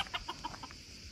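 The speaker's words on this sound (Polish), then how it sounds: "to jest chyba miniaturowy kogucik" A miniature rooster in a cage gives a short series of rapid clucks, fairly close and moderately loud, with no talk over it.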